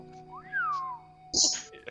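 A person imitates an impressed whistle with a rising-then-falling whistled glide, followed by a short breathy vocal sound.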